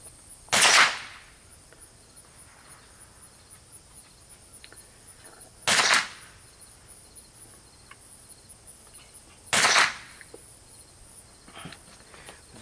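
Three sharp .22 rifle shots at target practice outdoors, evenly spaced several seconds apart, each a brief crack over a quiet background with insects chirping.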